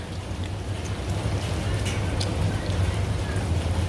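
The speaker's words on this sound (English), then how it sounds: "And it's still raining outside." Steady rain falling outdoors on a rainy workday, a dense, even hiss of drops that stays fairly loud and unbroken throughout, with no voices.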